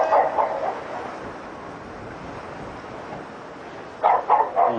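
A dog barks in a quick burst near the start and again in a short series at the end, fairly close, with a quiet, steady background in between and no talking.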